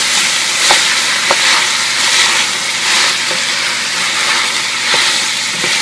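Large onion pieces sizzling and frying in a pan as they are stirred, a continuous bright hiss with a few soft scrapes and knocks from the spoon, close up and without talk.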